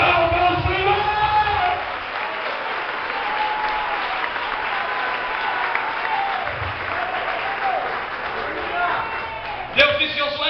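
A church congregation applauds steadily at a Sunday service, a dense sustained wash of clapping with scattered shouts and voices mixed in, ending in a sharp loud burst near the close.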